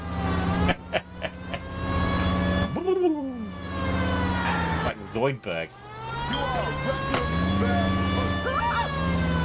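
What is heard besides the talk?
police siren in a video game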